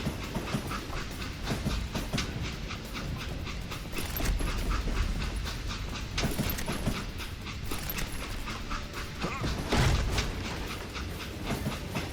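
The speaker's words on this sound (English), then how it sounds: "It was then that Jesse detached the express car from the rest of the damn train" Steam-era train in the Call of Juarez Gunslinger video game rumbling along the tracks, with rhythmic clacking, metallic clanks and low rolling noise, loud and close, with no talking.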